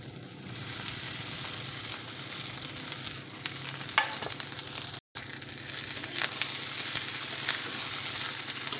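Leftover rice frying in a pan with onions, a steady close sizzle with occasional stirring scrapes and crackles, briefly cut off midway before resuming.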